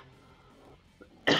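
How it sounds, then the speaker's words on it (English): A single short, sharp cough bursts out at the very end after near silence and a faint throat sound. "I don't know why I'm coughing so much."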